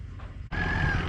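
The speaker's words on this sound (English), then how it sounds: "What you doing in here, hen? You looking for a spot to lay some eggs?" A hen in a farm shed gives a short, loud clucking call after a brief pause, close to the microphone over low background rumble.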